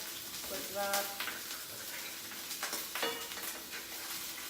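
An egg fries in a pan, hissing steadily and spitting in short pops, with a person speaking softly over the cooking.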